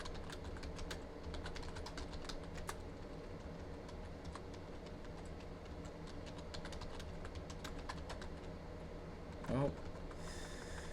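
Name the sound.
typing on a computer keyboard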